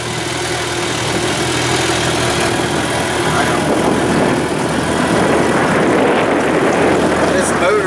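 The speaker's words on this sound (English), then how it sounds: "This motor's music in my ears." A boat's outboard motor idles and hums steadily while the boat is out on the water at night, a close, constant mid-pitched drone with people talking over it.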